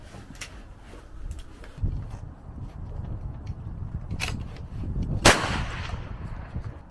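A precision rifle fires factory ammunition at a long-range outdoor range, one sharp crack standing out near the end above wind and handling noise, with smaller distant reports scattered earlier.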